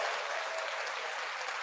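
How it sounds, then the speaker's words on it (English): A short burst of steady applause from an audience at a podcast recording, dense and even throughout. "another round of applause"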